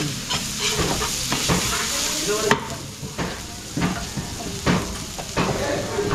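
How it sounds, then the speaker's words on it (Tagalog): Garlic, ginger and onion sautéing in oil in a catering kitchen, a steady loud sizzle broken by repeated scraping stirs of a spatula against the pan, with no voices. "gigisa natin to. Yung gisang-gisa para lumabas yung aroma ng luya"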